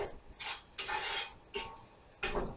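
A spoon stirs homemade gravy in a pan for biscuits and gravy, giving four separate bursts of scraping and clinking against the metal, each about half a second long, close by with quiet gaps between.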